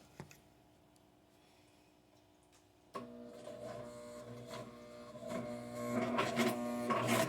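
A sewing machine with a walking foot stitches leather channels for tuck-and-roll upholstery. After a quiet pause it starts up with a steady, close mechanical whirring hum and ticking, growing louder toward the end.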